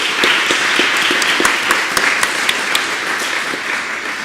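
Loud, sustained applause from a lecture audience, a dense continuous clatter of many hands with a few sharper near claps standing out.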